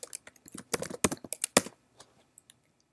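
Computer keyboard typing in short irregular bursts of clicks, close and clear, with brief pauses and no talk.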